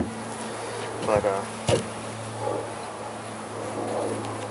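Honey bees buzz close around the head while a bee package is hived, a steady insect drone with a few louder passes, heard under a brief spoken word.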